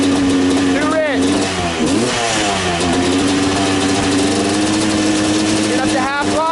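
A YZ250 two-stroke dirt bike fitted with an APT smart carb revs near half throttle, running slightly lean, a loud close engine with repeated rising and falling revs as someone talks over it.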